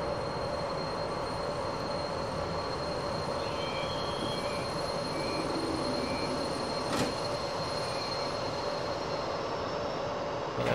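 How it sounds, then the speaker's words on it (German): A long-distance train pulls away from a station platform in Train Simulator, a steady low rumble with faint wheel squeal and a thin high tone running throughout, heard from a train standing alongside. "Der Fernverkehr neben uns fährt an."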